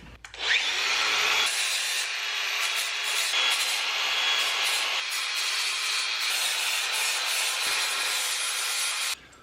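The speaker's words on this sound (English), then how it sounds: "We'll just shine up a little bit and be looking like a new hitch." A trailer hitch is polished with a steady, close abrasive rubbing that runs continuously for several seconds, with slight pauses and shifts in pressure and no talk over it.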